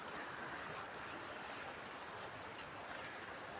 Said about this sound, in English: Come on, Ginny, that water's moving too fast for you today.